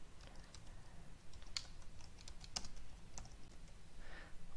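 Computer keyboard typed quickly on a Windows 10 PC to search for the Snipping Tool: a brisk run of light key clicks with a few sharper taps, close and alone in a quiet room.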